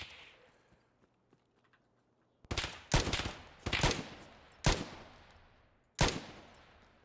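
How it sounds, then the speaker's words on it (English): Four or five loud, sharp gunshots from the video game Escape from Tarkov, spaced irregularly after a quiet opening, each burst ringing out with a short decay. "This gun is so inaccurate sometimes. Shoots really good bullets, though."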